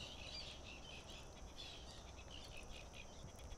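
Dense, steady high-pitched chirping from many birds at a lagoon on Apo Reef, Sablayan, Occidental Mindoro, a continuous chorus with no talking.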